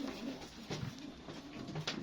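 A domestic pigeon close by gives soft, low, repeated coos under faint background noise, with no talk.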